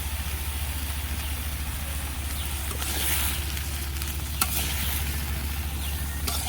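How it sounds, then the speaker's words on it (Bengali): Vegetables fry in a pan with salt, turmeric and dried chilli, giving a steady close sizzle with occasional stirring scrapes over a low constant hum. "তো সবজিটা ভালো করে কষিয়ে নেই"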